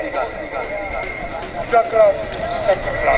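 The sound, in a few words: horses galloping during neza bazi tent pegging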